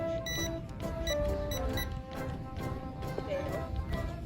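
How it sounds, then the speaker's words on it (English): A small electronic device, pushed up and down on its control, gives a string of short beeps over background noise while a person talks. "It'll beep a few times"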